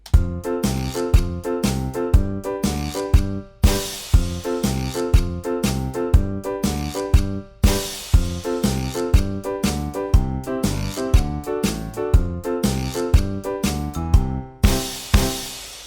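A bouncy hip-hop beat with punchy drums and bright orchestral stabs loops steadily, loud and upfront, with no voices.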